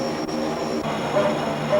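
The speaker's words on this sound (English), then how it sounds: "it's a Yak-7, a Chinese-built but Russian-designed airplane of fairly ancient vintage" A Chinese-built, Russian-designed Yak-7 airplane of old vintage arrives at an airport near Chengdu, its loud, steady engine drone filling the air with a constant whine.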